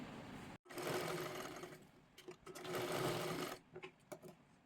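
Sewing machine stitching tucks on a blouse: two close, steady runs of rapid mechanical whirring separated by a brief pause, ending with a few short stitch bursts, with no voices.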